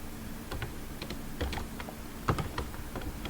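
Light clicks of typing on a computer keyboard, a short burst of irregular keystrokes over a faint background hum, fairly quiet and close, with one slightly harder tap near the end.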